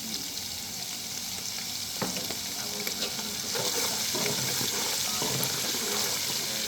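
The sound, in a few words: green chilies frying in oil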